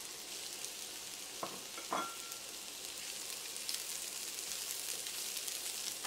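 Carrots and green beans sauté with garlic and onion in a pan for pancit batil patong, a soft continuous sizzle with a couple of sharp spatula scrapes near the start, quiet and without talk.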